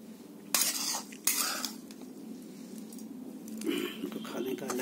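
Spoon scraping and clinking against a pan and plate as hot poha with onion, garlic and capsicum is served, two sharp metallic clatters near the start and softer scraping later, close by.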